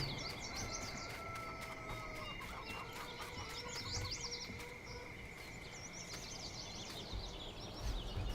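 Chickens cluck and chatter faintly in Farming Simulator 19 over a dense, steady background hum, with scattered bird calls throughout and no voices.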